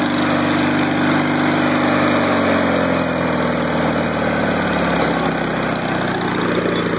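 Gravely Promaster 300 commercial mower running steadily nearby, its engine droning loud and continuous with a rough, buzzy note from a worn muffler in need of replacement, the pitch shifting slightly near the end.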